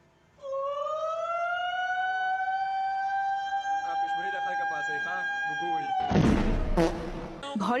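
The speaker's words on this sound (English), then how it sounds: "you absolutely can't miss their indigenous siren system" An indigenous siren system from Bangladesh sounds one loud, sustained wailing tone that rises at the start and holds steady, then overlapping speech takes over near the end.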